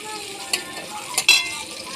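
Onion dropped into hot oil with cumin in a pan, a soft close sizzle broken by a few sharp scrapes and clinks of the spoon, no voices.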